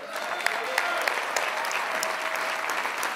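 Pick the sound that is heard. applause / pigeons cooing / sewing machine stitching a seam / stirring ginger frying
applause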